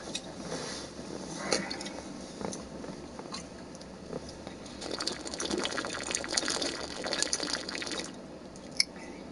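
Close, quiet sips and wet mouth sounds of someone drinking water, with small clicks and gulps spread over several seconds and a sharp tap near the end.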